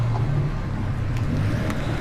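Continuous low traffic rumble of motor vehicles moving nearby, a steady roadway drone with a couple of faint higher clicks.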